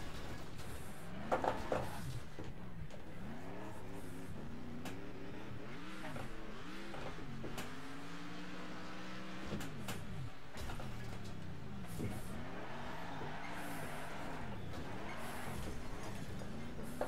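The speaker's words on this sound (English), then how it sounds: "I'm just driving around in reverse at the minute." A car engine in Next Car Game driving in reverse, a steady close drone that repeatedly rises and falls in pitch as it revs, with occasional faint clunks.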